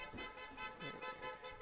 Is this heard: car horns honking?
yes